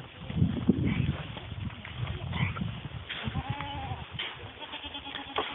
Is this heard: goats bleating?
yes